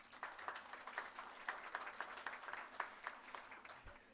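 Audience at a library grand opening clapping for the building contractors, a light scattered round of claps from a modest crowd, fairly distant and quiet.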